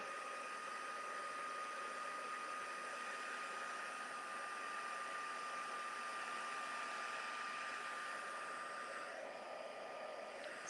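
A heat tool used to heat set ink on a stamped craft project blows a steady, even airy roar throughout, with a constant whine and no talking over it.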